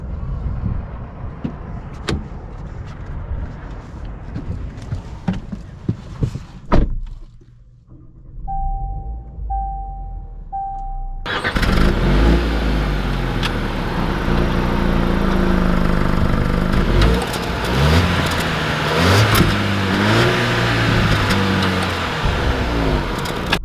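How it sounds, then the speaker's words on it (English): A 2020 Range Rover Evoque SE starts up and pulls away: quiet cabin sounds and a few chimes give way to a loud, steady engine and road rumble that continues to the end, with no talking. "let's take the Evoque out and see how it drives"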